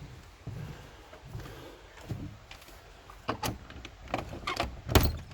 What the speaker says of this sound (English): Let's see if this door opens.